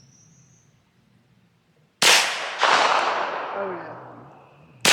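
A KelTec Sub 2000 Gen 2 9mm folding carbine fires brass-cased rounds outdoors: two sharp, loud shots about half a second apart with a long ringing decay, then a third shot at the very end, and a brief comment between them.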